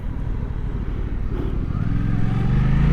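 A 2024 Suzuki GSX-8S motorcycle engine rumbles while riding, a loud low drone that rises in pitch toward the end as the bike accelerates, with wind noise over it.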